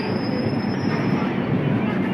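A passenger train from Secunderabad to Tirupati rolls along, heard from inside the compartment as a steady, dense rumble of wheels and carriage noise, fairly loud and unbroken.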